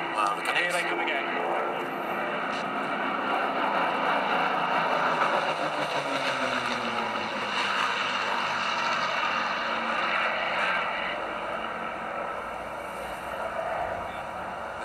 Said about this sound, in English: So lovely to see Captain Tom waving as they fly overhead.